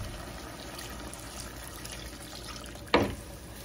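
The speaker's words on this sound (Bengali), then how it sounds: "এখন আমি দিয়ে দেব পরিমাণ মতো পানি।" Water poured into a pan of pomfret fish curry with spinach, a brief splash near the end after a low, steady background hiss, no talking.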